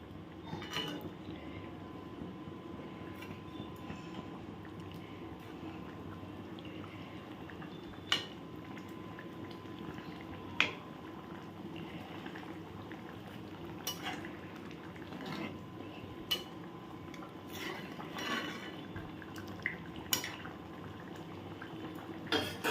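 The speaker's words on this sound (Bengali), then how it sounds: "দেখো ঝোলটা ফুটে উঠেছে" Spicy pomfret fish curry gravy bubbling at a steady boil in a pot, a continuous soft simmering rush broken by a few sharp utensil clinks, with no voices.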